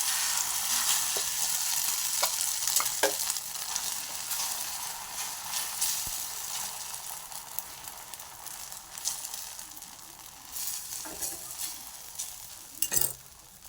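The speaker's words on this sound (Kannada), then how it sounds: "ಇವಾಗ ಮಿಕ್ಸ್ ಮಾಡಿ ಇಟ್ಕೊಂಡಿರೋಂಥ ಮೊಟ್ಟೆನ ಹಿಂಗೆ ಅಗಲವಾಗಿ ಹಾಕ್ಕೊಂಡ್ಬಿಡಿ ಹಂಚು ಮೇಲೆ." Beaten egg spread over a griddle with a spoonful of oil, sizzling steadily and fairly close, with a few scraping stirs near the end; no one speaks.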